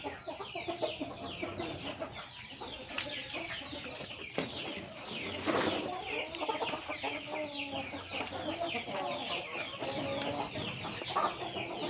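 Chickens cluck and chatter close by in a farmyard while their feed is mixed with oregano, with busy overlapping calls, a few louder squawks and faint shuffling beneath.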